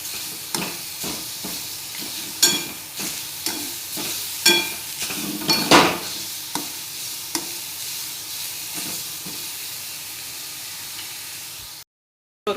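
A spoon stirs jaggery and grated coconut filling in a hot pan, giving a steady sizzle with repeated scraping strokes at close range, and no talk.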